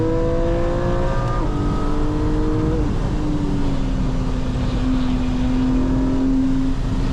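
Porsche 718 Cayman GT4 on a race track, engine note rising and falling through gear changes with steady loud drone, shifting downward as it slows near traffic; continuous, close, no talking.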